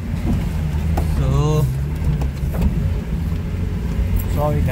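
A Maruti Gypsy 4x4 drives out of a quarry with a low, rumbling engine under loud, steady road noise. Short rattles and knocks break through, and people speak briefly inside the vehicle.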